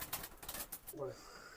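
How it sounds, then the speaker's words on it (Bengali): A male and a female pigeon for sale let out a faint, short coo amid quiet, muffled handling noise and background murmur. "এখানে দুইটা কবুতর আমি দেখাচ্ছি, একটা নর একটা মাদি আছে"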